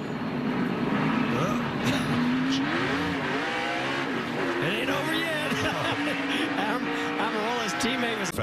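NASCAR Cup race cars braking hard into turn 11 of the Sonoma road course, engines revving up and down with tire squeal as cars spin and crash, while a commentator's voice talks over the roar.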